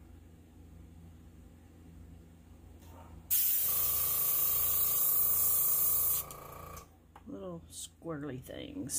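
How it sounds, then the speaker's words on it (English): An airbrush sprays sepia alcohol ink in one loud, steady hiss lasting about three seconds, close up, with quieter talk before it and a short remark just after. "sepia I want to do, I'm going to take my airbrush"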